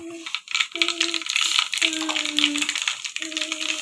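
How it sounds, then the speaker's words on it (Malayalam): Mustard seeds dropped into hot coconut oil in a pan give a busy, close crackle and spatter throughout, while a steady humming tone cuts in and out underneath. "വെളിച്ചെണ്ണ ഒഴിച്ചിട്ട് നമ്മൾ കടുക് ഇടാണ്."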